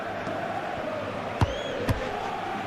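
Stadium crowd in the football video game eFootball PES 2021, a steady distant murmuring roar with a couple of brief thuds of the ball, no commentary heard.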